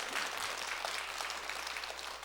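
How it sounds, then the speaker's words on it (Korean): A congregation at a Sunday Buddhist dharma service claps together, a dense, even round of applause held steadily and fairly loud for a couple of seconds. "박수 한번 치세요"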